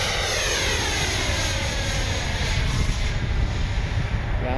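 FMS 70mm F-18 RC jet with an electric ducted fan on its maiden flight, passing overhead as a loud, continuous whooshing whine whose pitch sweeps during the flyby, with no voices.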